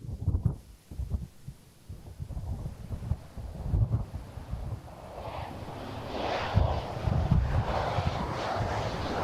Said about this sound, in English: the wind is definitely picking up now. It's getting a lot more.